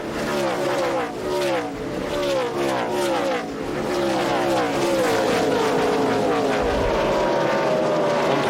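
Several NASCAR Craftsman Truck Series race trucks roar around the Nashville track during a race, engines rising and falling in pitch as they pass close by, loud and continuous with a faint voice beneath.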